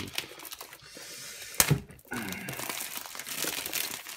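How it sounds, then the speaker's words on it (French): Packaging of a Google Home Mini being torn open by hand, close and crisp: brief crinkling, a sharp rip, then sustained crumpling and tearing of paper and cardboard. "Donc désolé l'emballage, mais je vais l'ouvrir comme ceci"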